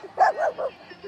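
One of three dogs at a gathering of dog lovers gives a quick run of about three short, yipping barks, close and fairly loud, with a brief soft yelp at the end.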